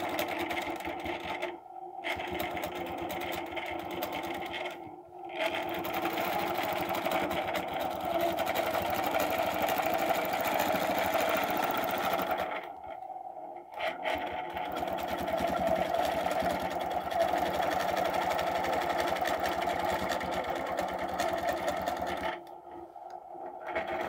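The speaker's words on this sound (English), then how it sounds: "And now I can stitch all the way across." A sewing machine stitches arcs across a design template, a steady loud motor hum with rapid needle chatter, running in long stretches broken by a few brief stops.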